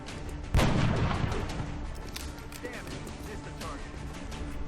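A single loud gunshot booms out in XCOM: The Long War and decays over a second or so, followed by a lower game background with faint mechanical chirps and effects.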